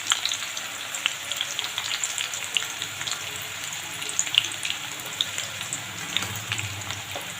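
Green chilies, split open, fry in hot oil in a pan for a masala hilsa fish fry, giving a steady close sizzle with crackles and small pops throughout.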